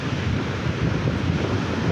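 Strong sea waves crash on a beach at Murud, India, a dense, loud, continuous roar of surf mixed with heavy wind buffeting the microphone.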